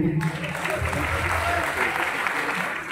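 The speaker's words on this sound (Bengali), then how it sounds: "এত সুন্দর একটা অ্যাঙ্কারের জন্য একটু হাততালি হবে।" An audience at an awards event for voice-over artists claps steadily for a woman anchor, a dense, even wash of applause filling the room throughout.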